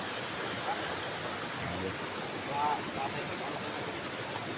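Broad, steady rush of a river flowing beside the riverbank, a constant close wash of water noise with faint voices briefly in the background.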